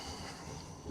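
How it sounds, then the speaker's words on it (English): A train rumbles past nearby, a steady low roar with hissing noise, brief and continuous. "Bloody trains"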